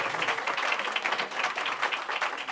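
An audience at a Moore County school board meeting claps in a steady, moderate patter of applause for about two and a half seconds, heard from across the room with no talking.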